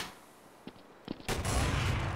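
A sniper rifle fires in Counter-Strike: Source, with a few faint distant shots first, then a loud blast that rolls into sustained noisy gunfire and echo.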